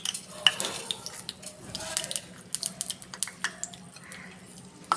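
Mustard seeds and a dried red chilli crackle and pop in hot mustard oil for a Nepali chukauni, sharp scattered sputters over a low hiss, with a spoon stirring and clinking against the pan close by.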